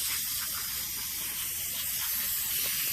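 Degreaser sprayed onto a greasy boat engine makes a steady, close hiss that carries on unbroken for the whole moment.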